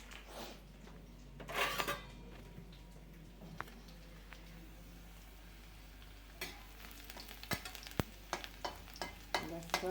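Garlic sizzling in hot oil in a pan, with stirring and occasional utensil scrapes and clanks, fairly quiet with intermittent louder bursts.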